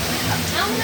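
Waterfall pouring near the mouth of the Baudeshwar cave, a steady broadband rush of falling water filling the short stretch at even loudness with no breaks.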